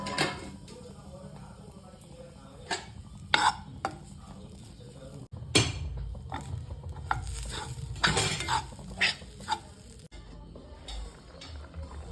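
Grated coconut roasting and being stirred in a pan, with repeated scraping and clattering strokes of a utensil against the pan over a low sizzle.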